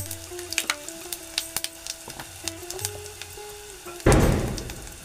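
Mustard seeds, cumin and a pinch of turmeric drop into hot oil for a rajma tempering, bursting into a loud, steady sizzle about four seconds in after scattered crackles and clinks of a pan.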